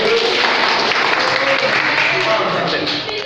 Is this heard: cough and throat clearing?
no